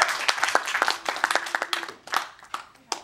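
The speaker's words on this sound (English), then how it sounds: "So let's give them a round of applause" A modest audience claps at a social media fundraising guide launch, a thin scattering of individual hand claps that thins out and trails off toward the end.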